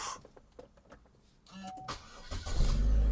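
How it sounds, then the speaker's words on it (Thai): A Chevrolet Cruze car starts up: faint clicks and a brief cranking whine, then the engine catches and settles into a louder, steady idle rumble. "ตั้งแต่ผมใช้งานมาไม่เคยมีอาการสตาร์ตติดยาก สตาร์ตติดช้าใดแรงสิ้น จิ้มทีเดียวติดตลอด"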